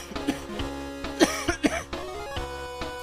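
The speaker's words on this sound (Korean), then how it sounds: "마른 기침이." A few dry coughs and throat clearing from one person, close and short, sitting over quiet retro video game music.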